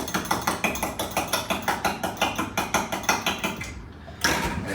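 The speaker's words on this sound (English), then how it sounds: "So we're just going to whisk that together." A whisk beats yeast and sugar into lukewarm water in a bowl for pizza dough, making a fast, steady run of close, clattering strokes, about four a second, that pauses briefly near the end and then resumes.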